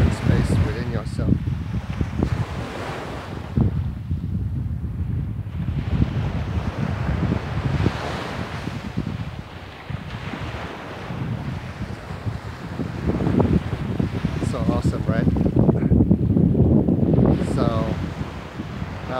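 Steady wind buffeting the microphone over ocean waves on a quiet beach, a constant broad rush that swells and eases without clear individual wave breaks.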